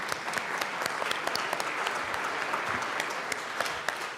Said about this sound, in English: Let's give them a round of applause for that beautiful music this morning.